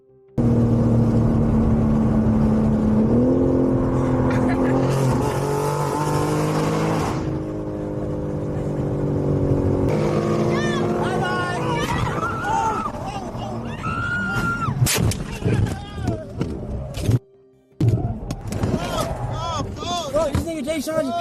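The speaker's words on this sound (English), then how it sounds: "Their vehicles can be heard audibly revving up." Cars revving and accelerating hard while racing on an interstate, a loud engine drone with rising revs heard from inside a vehicle, later broken by rough, chaotic noise and voices talking over it.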